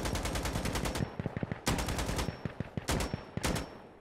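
Enemy gunfire in Insurgency Sandstorm, with steady rapid automatic bursts cracking in long strings and brief pauses between volleys. The shooting is moderately distant and fills the clip without talk.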